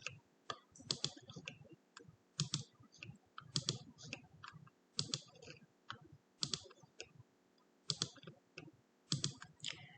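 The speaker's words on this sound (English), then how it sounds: "We're just going to click the top answer for time saving purposes." Mouse clicks repeat in quick short bursts about every second and a half while answers are chosen and pages advanced in an online confirmation lesson, crisp and close with no talking.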